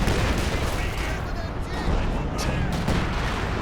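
Howitzer artillery barrage in Company of Heroes 2, a dense, continuous roar of overlapping booms and crackling blasts that stays loud throughout, with a voice speaking over it.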